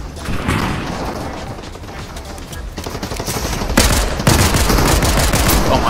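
Loud, dense gunfire in a PC first-person shooter, with rapid automatic bursts and heavy booms growing more intense toward the end, played close with no voices over it.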